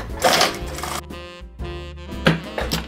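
A sewing machine stitches a placemat in short, halting bursts with brief pauses as the fabric is guided around a curve, close and moderately loud.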